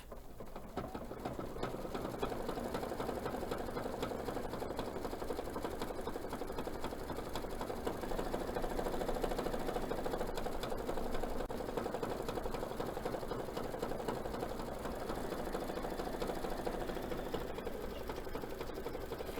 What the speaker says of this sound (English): I'm going to triple stitch my star to finish it off.